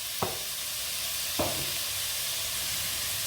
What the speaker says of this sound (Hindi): मिक्स कर लेते हैं सब चीज़ों को।